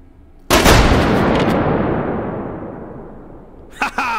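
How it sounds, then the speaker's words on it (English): A door-breaching charge in the VR shooter H3VR blows a door apart in one sharp, loud blast that decays into a long rumbling tail, followed by a couple of small clattering impacts. "That was a perfect shatter blowout."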